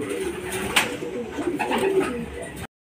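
Racing pigeons arriving at the loft coo softly close by, with a few wing flutters and light rustling over a dull outdoor background.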